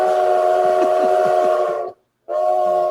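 A train rumbles and sounds a sustained, loud whistle-like horn, cutting out briefly to silence before the same tone resumes.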